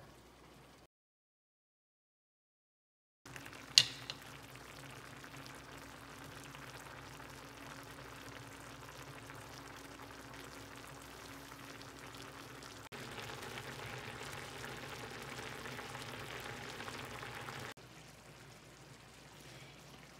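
Vegan mushroom stroganoff sauce simmers in a pot with a faint, steady bubbling and low sizzle, continuous and quiet with no talking.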